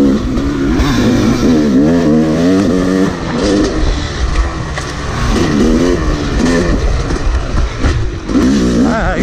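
Dirt bike ridden on motocross laps: close, loud engine revving up and down in repeated surges as the rider accelerates and shifts, continuous throughout.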